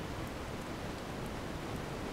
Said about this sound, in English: How would you know it's raining?